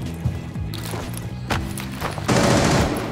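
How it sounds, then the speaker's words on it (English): In the Rainbow Six Siege video game, a breach charge is placed on a wall with a series of sharp knocks and clatters, ending in a louder burst of noisy rustle, with no talk. "So when somebody places a breach charge,"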